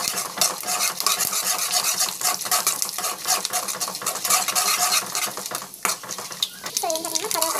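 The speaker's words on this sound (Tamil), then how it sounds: "கடுகு, சீரகம், இதெல்லாம் வந்து வதக்கலாம்." Mustard seeds and cumin fry in a pan under loud, constant metal stirring and scraping. A bright sizzle runs beneath the rhythmic utensil strokes, and a short tonal sound comes near the end.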